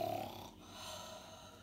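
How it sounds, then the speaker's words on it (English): Snoring in a children's bear story, a short, faint, rough breathy grunt that fades into a low rumble, heard alone. "Mrs. Bear began to snore."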